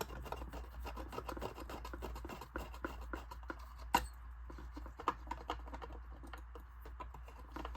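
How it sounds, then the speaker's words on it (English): A small screwdriver drives a long screw into Injora flex blades on an SCX24 RC crawler, giving a quiet, close run of fine rapid ticking and scratchy turning clicks with a few sharper taps. "get the screwdriver on it here, line it up with the hole, screw it in."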